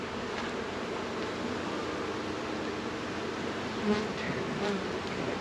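A dense, steady swarm of honeybees buzzing loudly and close around a dropped full hive box, a continuous droning hum with no talk.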